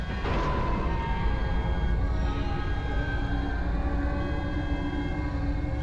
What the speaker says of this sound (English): We got these warning sirens going off.